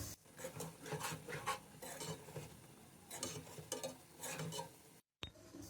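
Peshawari karahi gosht, meat frying in oil in a karahi, stirred with steady scraping strokes over a low sizzle, close and quiet, with a brief cut to silence near the end.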